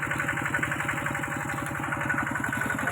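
A motor-driven water pump runs steadily while draining a pond to catch fish, its engine idling with a fast, even chugging pulse that stays loud and close throughout, with no voices.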